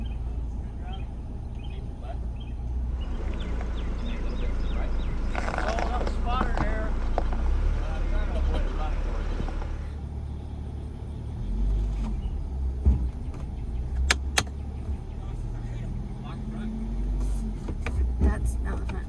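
A Ford Bronco's engine rumbles low and steady on slow throttle off-road, with wind buffeting the microphone and people talking over it at times.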